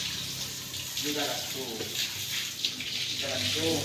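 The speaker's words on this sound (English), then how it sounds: "Residual dirt that has not been cleaned, all sprayed using water." Water sprays and splashes across a cattle pen floor as leftover cow dung is washed away, a steady close hiss with a voice talking faintly underneath.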